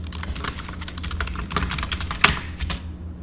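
Someone types a file name on a computer keyboard, a steady run of close, crisp keystrokes with a sharper clack near the end before the tapping trails off.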